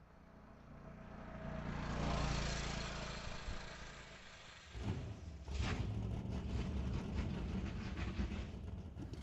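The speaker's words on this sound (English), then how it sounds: "cars are about to fire up and get back to racing" Race car engines fire up and rumble at an ET series bracket drag race, a steady loud mechanical roar that swells, dips briefly, then surges back and holds near the track.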